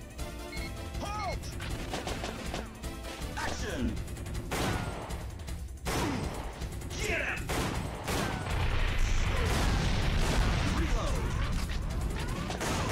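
Rapid gunfire bursts and mechanical clanks from the Time Crisis arcade shooter, played on the DuckStation emulator for Android, crackle through the scene with crashes and sharp impacts, at moderate volume over game effects.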